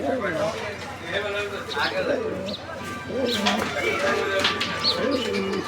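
A male fancy pigeon coos in low, rolling repeated calls close by, while someone talks over it.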